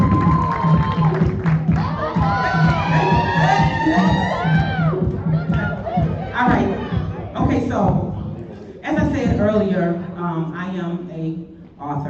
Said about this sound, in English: So let's give a round of applause for her.